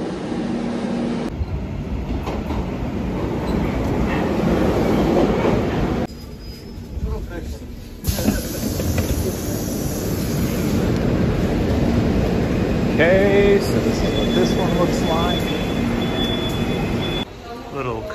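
A Moscow metro train rides between stations, a loud continuous rumble and roar of wheels on rails with a high whine, a few brief squeals and shifting tone as it runs through the tunnel.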